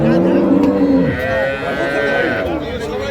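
A dairy cow gives a long, loud moo close by, over a busy crowd murmuring in the background at the Ambari livestock market in Dinajpur.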